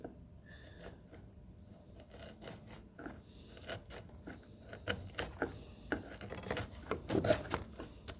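A hand plane takes gentle shavings from a wooden oil stone case, worked against the grain with short light strokes that come in a stop-start run of scraping rasps, growing a little louder toward the end.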